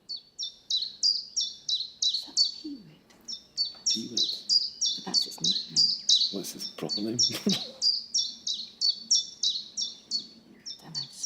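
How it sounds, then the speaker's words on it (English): Chiffchaff song played as a quiz bird call, a steady run of bright, evenly repeated chirping notes with brief gaps, while quiz contestants talk over it. "No, it's a chiff chaff."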